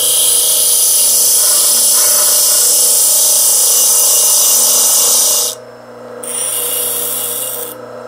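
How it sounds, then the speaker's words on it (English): High-pitched grinder whine as a steel nail's sharp point is ground off to make a pin for a scrapwood clock, steady and loud, then briefly cutting out before resuming. "this nail doesn't need to have a sharp point on it, so I'll grind that off"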